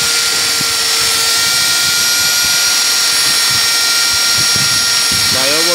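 A power tool polishing a four-cavity mould die for a crab box, a loud continuous high whine with steady tone and a brief change in pitch near the end, while someone talks over it.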